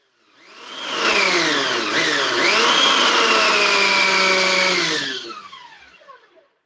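A blender whirs steadily as it purées cashews for a chocolate tart filling, the motor rising in pitch partway through, then running down and trailing off near the end, loud and close with no talking.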